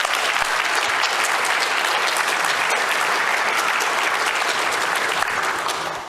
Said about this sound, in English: All right, first a big round of applause.